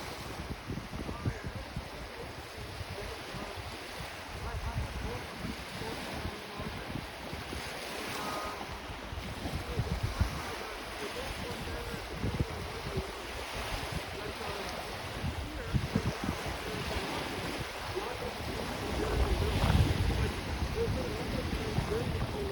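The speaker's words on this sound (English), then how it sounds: "the Scarborough Bluffs beach" Lake waves washing onto the beach at Scarborough Bluffs in Toronto, a steady broadband wash with gusty wind buffeting the microphone, swelling louder near the end.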